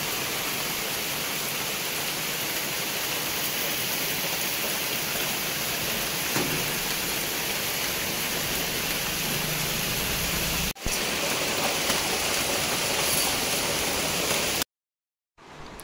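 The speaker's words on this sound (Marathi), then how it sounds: "आणि बाहेर हा मस्त असा जोरदार पाऊस" Heavy monsoon rain pours outside in the Konkan near Guhagar, a steady loud hiss without breaks that drops out briefly near the end.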